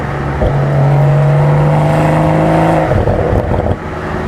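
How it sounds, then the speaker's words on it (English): Manual 2025 BMW Z4 M40i engine droning steadily with a rising tone, heard from inside the car, with faint crackles from the exhaust mixed into the sustained engine note. "you can hear the pops and bangs out the back"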